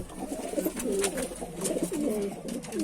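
Adana pigeons in a coop coo and squabble, with overlapping throaty coos and bursts of scuffling that are steady and fairly close.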